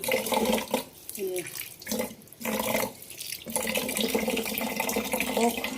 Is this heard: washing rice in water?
yes